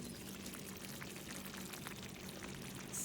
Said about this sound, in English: it's ready to simmer for another 8 to 10 minutes